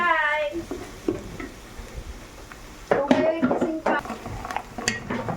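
Ginger gets stirred into a hot pan, with intermittent utensil scrapes and clatter against the pan over a low sizzle, growing busier toward the end; a brief voice is heard at the start.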